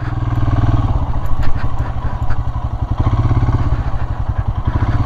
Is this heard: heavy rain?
no